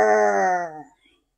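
A voice imitates a bear's growl with one drawn-out, throaty rumble that fades away, followed by a brief faint sound.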